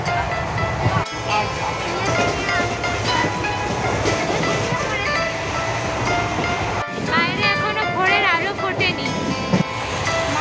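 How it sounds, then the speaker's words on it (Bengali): A train rumbles and clatters steadily from inside a passenger carriage near Bishnupur station, with a constant low roar and voices talking over it. "ট্রেন চলে এসছে আর ট্রেনের মধ্যে সবাই উঠেও পড়েছি"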